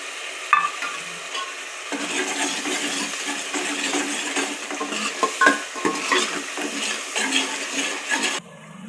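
Vegetables being stirred in a pan with ginger-garlic paste, turmeric and Kashmiri chili for Kathiyawadi undhiyu, a steady scraping and sizzling clatter with a few sharp clinks throughout, close and without voices.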